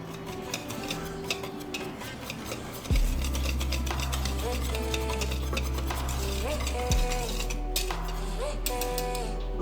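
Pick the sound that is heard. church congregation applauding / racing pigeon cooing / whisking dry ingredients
whisking dry ingredients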